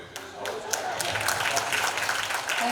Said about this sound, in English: A huge round of applause for all our distinguished speakers.